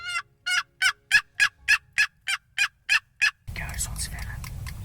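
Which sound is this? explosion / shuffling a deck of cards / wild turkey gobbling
wild turkey gobbling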